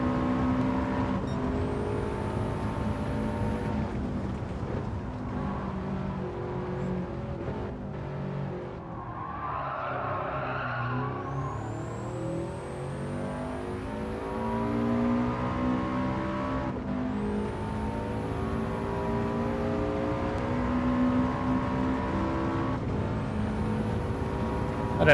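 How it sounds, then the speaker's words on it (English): A race car engine in a racing video game drones loudly and continuously, with rising revs on each gear and sharp high shift whines repeating through a long stretch of driving. "I really like the sound of this engine."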